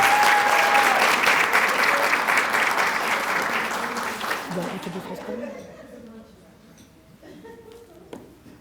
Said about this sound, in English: Let's give the ladies another round of applause.